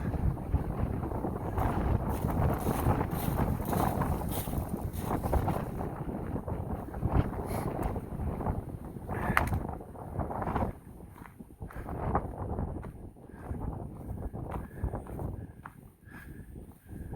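Cold, gusty wind on the Appalachian Trail buffets the microphone with a loud, continuous roar that swells and eases in waves, with no talking.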